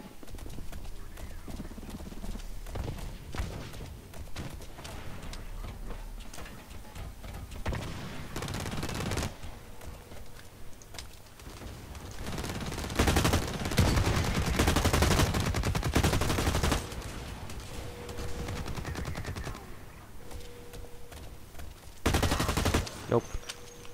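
Gunfire rattles through a Blacklight Retribution online shooter match, with bursts of automatic shots and louder volleys mixed into busy game sounds, repeated over about twenty-four seconds.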